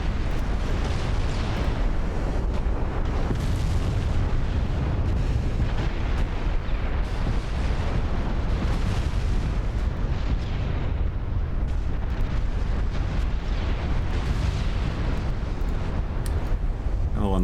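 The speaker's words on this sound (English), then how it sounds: "Both battleships immediately taking huge, overwhelming fire." Heavy naval gunfire from battleships in a dreadnought-era naval warfare video game, a dense continuous rumble of booming shell impacts and cannon blasts with no clear gaps and no voices.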